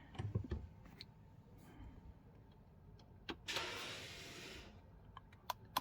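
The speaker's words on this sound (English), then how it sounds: "Release the park brake." The electric park brake on a BMW X3 F25 releases with a short motorised whir lasting about a second, set among quiet clicks and faint knocks in a calm, near-silent space.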